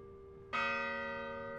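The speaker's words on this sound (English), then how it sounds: "Those are the bells of St. Michael's, and they haven't been played for a while." The church bells of St. Michael's strike once, loud and near, leaving a bright ringing tone that sustains and slowly fades.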